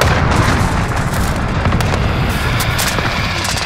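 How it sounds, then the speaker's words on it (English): Heavy, continuous explosive rumble from a cruise missile strike in the video game Modern Warfare, on the Scrapyard map in Demolition mode, loud and dense throughout with scattered sharper booms and pops layered on top. "Allied cruise missile away."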